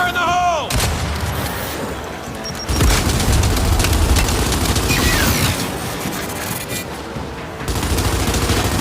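A frag grenade explodes in the Gears of War video game with a loud, booming blast amid rattling gunfire and chaotic battle noise, continuing heavily for several seconds.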